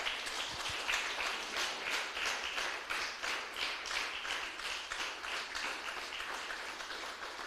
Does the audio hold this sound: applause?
yes